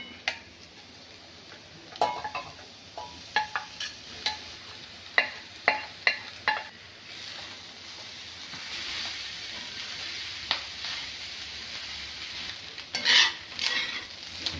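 Clam meat stir-roasts in a spiced pan with chilli and pepper powder, Kuttanad style: a string of sharp spatula scrapes and taps over a low sizzle, then a steadier frying hiss and a louder scrape near the end.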